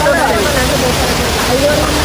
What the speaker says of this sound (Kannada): ಜಲಪಾತ ನೋಡಿ ಗಾಯ್ಸ್